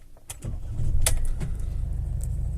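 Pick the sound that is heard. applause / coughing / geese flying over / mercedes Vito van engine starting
mercedes Vito van engine starting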